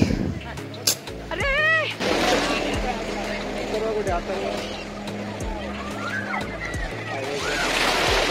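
A motorboat tows a banana boat across the sea at Malvan, its low engine hum running steadily beneath water sloshing, with people talking and calling out over it.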